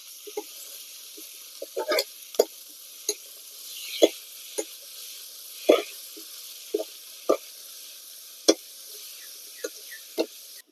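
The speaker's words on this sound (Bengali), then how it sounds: "এবারে সবকিছু একসাথে ভালোভাবে কষিয়ে নেব" Jackfruit curry with a paste of ground fennel and cumin sizzles steadily in a pan while a spoon stirs it, giving sharp scraping clicks at irregular intervals over a soft continuous hiss.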